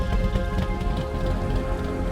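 Steady rain from Tropical Storm Ophelia patters on surfaces at a race venue, a dense, loud, continuous hiss of drops with no voices.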